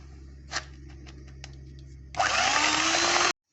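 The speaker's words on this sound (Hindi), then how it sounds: "मैंने इतना इसको बीट करना है कि ये क्रीम की तरह हो जाएगा" Sugar mixture for fruit cake batter being beaten in a bowl: a few soft knocks, then an electric beater starts up with a steady loud whir that rises slightly in pitch and cuts off abruptly.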